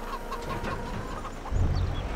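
Several chickens clucking close by in Farming Simulator 22, a continuous, busy chatter, with a low rumbling noise rising underneath partway through.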